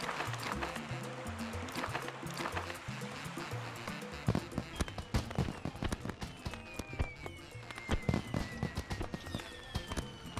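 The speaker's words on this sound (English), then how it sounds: "Yay, fireworks." Fireworks go off in the Tropico 4 city-building game, a string of sharp pops and crackling bursts that come quickly in irregular volleys over a low background bed of game music.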